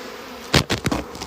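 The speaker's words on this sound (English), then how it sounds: "They are spreading the pheromones while they are fanning their wings." Honey bees in a swarm fan their wings in a steady, close buzzing drone, with several louder buzzes as individual bees pass right by the microphone.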